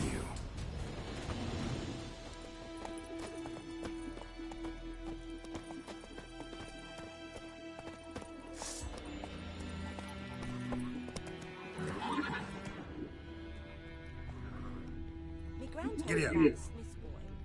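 Video game horse galloping and neighing, a faint patter of hoofbeats under music and talk, with a short louder burst near the end.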